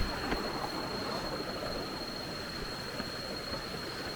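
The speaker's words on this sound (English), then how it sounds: "This is the waterfall." Hin Lad Waterfall on Koh Samui rushes with a constant, full, roaring wash of falling water, loud and close, broken only by a few faint knocks.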